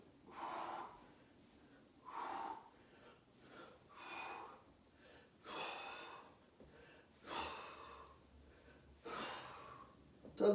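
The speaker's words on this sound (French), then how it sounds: "Respire, hein, c'est important de respirer." Close, audible gasping breaths during a home fitness workout, repeating about every two seconds in a steady rhythm with quiet gaps between, and no talk over them.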